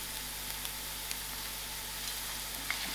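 Onions fry in a pan after a biryani spice mixture is added, giving a steady, even sizzle with small crackles, close and alone with no talking.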